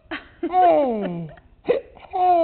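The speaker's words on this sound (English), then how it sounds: "too much talking give you the hiccups?" A small child hiccups, a brief catch breaking up drawn-out whiny babbling and vocal sounds, heard up close.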